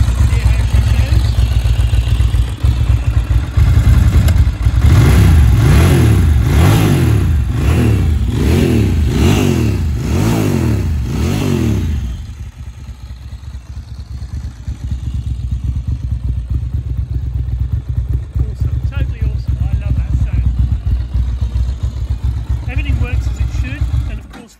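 A Ducati 900 Super Sport Final Edition motorcycle engine runs loud and close, with rhythmic revving pulses in the first half, then settling into a steady, lumpy idle.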